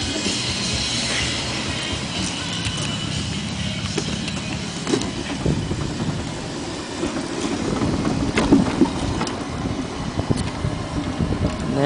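A homemade GM2 Green Machine vehicle drives along outdoors, giving a steady broadband rolling and engine rumble with wind buffeting the microphone throughout, growing slightly louder toward the end; nobody speaks.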